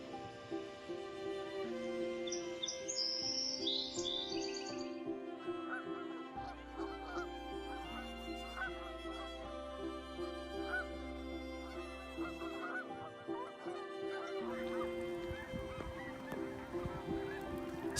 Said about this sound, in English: Snow geese are known for their striking white plumage, black-tipped wings, and loud honking calls